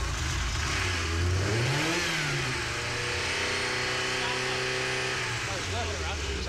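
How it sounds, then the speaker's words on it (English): A Ferrari Mondial engine revs up and settles, a close mid-pitched rise and fall followed by steady running with engine harmonics, loud and clear with people talking over parts of it. "The engine may sound good"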